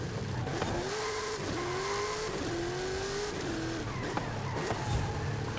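A rally car in Forza Horizon 5 corners on a woodland rally stage, its engine rising and dropping through repeated revs with gear shifts and gravelly tire noise, loud and continuous.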